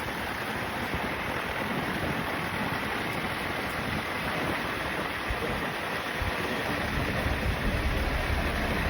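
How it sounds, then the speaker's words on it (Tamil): Heavy rain pours steadily during a night ride on the forest road from Athirapally to Valparai, a dense, loud, continuous wash of noise with rushing wind that lasts throughout and carries no talk. "மழை நல்லா"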